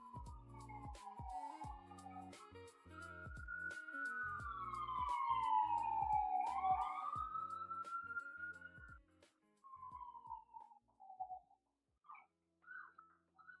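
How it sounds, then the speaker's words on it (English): Emergency vehicle sirens wail in the background during a live forex trading stream, a rising and falling electronic siren that swells and fades, faint and distant, with several short sharp sounds alongside. "It's the first time I've ever heard the sirens in your background."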